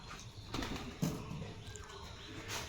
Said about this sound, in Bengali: পায়রা বন্ধু চলে এসছে, পায়রা বন্ধু ওখানে খাবে।